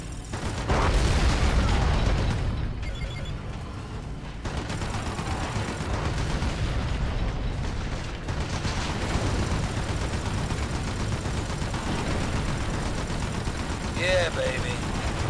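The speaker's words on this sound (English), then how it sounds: "Nice shooting, partner." Dense, continuous gunfire from the video game Red Faction II, with rapid automatic bursts and heavy booms layered into a loud, busy battle mix that runs throughout with little let-up.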